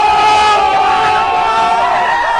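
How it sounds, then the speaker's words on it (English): A crowd lets out a sustained, loud "ooh" reaction, a short swelling chorus of voices holding a drawn-out vowel for a couple of seconds with no other talk. "can I get a ooh sound effect?"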